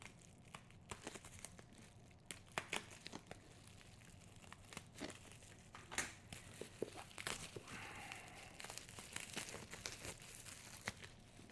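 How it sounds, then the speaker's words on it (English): Bubble wrap being cut and crinkled while boxes are unpacked, with irregular crackling, tearing and crunching bursts close to the microphone, scattered over about twelve seconds at low volume. "How do we cut through bubble wrap properly?"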